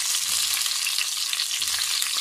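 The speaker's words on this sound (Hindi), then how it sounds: "अब हमने इन्हें फ्राई करने के लिए डाल दिया है" Stuffed tinda fry in hot mustard oil with a loud, close, steady sizzle and spatter, and no talking.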